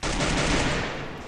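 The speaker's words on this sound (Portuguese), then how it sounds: "Dá o primeiro tiro andando." Rapid burst of gunfire from Free Fire, loud and close, a dense rattling volley lasting about a second before tapering slightly.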